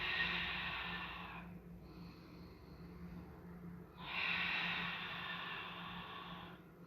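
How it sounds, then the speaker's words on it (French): Two long, airy breaths drawn in during a Pilates mat exercise, the first lasting about a second and a half, the second swelling after a pause and lasting longer, close and clear over a low steady hum. "Et j'inspire."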